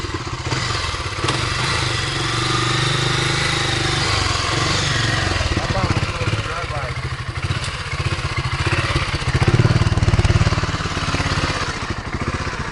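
A 2007 BMW G650 X-Challenge single-cylinder motorcycle being ridden, its engine a loud continuous throbbing rumble that swells and eases with throttle, with some clatter and wind noise.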